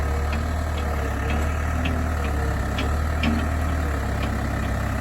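Backhoe engine running steadily while digging a French drain beside an old West Virginia farmhouse, a loud continuous diesel rumble with faint clanks over it, close by.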